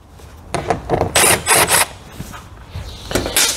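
Screws being backed out of a Tesla large drive unit, heard as a few close, scraping, rasping turns in short bursts, loud and with no talking.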